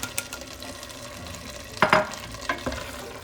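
Zucchini caviar with dill frying in a pan, quiet sizzle with a few louder scraping stirs near the middle and end.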